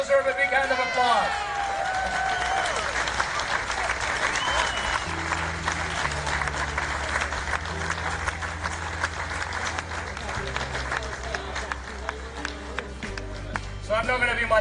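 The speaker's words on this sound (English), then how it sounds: "because they deserve a big hand of applause." Crowd applause for the wives at the LiUNA Local 183 family day, steady dense clapping from a large gathering lasting the whole stretch, with cheering early on and a low musical drone underneath.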